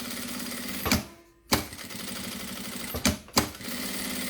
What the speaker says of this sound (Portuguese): Colocar aqui e passar uma costura em volta de tudo.